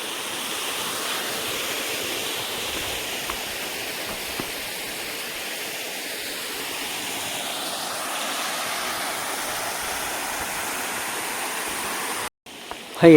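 The Anakuzhi waterfall at Meppadi, Kerala roars in a constant, dense rush of water, loud and unbroken throughout, ending with a brief cut and a bump.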